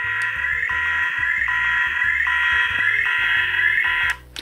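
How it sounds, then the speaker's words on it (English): Loud electronic alarm from a Playmobil Mars Research Vehicle 9489 toy, a continuous pulsing tone with a repeating rhythmic pattern that cuts off abruptly near the end. "Okay, so that's definitely an alarm."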